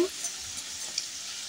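Chandrakala sweets fry in oil over a low flame with a steady, soft hiss and a few faint pops.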